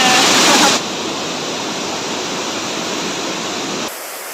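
Water roars steadily from a small waterfall on the Kurushnar river, a loud, broadband rush that is strongest at the start, then settles to a constant hiss and drops slightly near the end.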